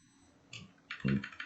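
Clicking keystrokes on a computer keyboard during coding, a few soft taps followed by a denser burst of louder key presses, close up with no talking.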